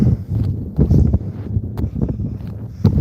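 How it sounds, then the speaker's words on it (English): Gusting wind buffets the microphone on an outdoor walk toward a town, a loud, low rumbling roar that rises and falls, with faint footsteps and rustling mixed underneath. "now it's windy right here"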